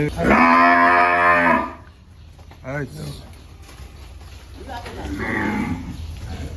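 A cow lets out one long, loud moo close by as cattle are led from a farm to a livestock market, followed by people talking over a low outdoor background.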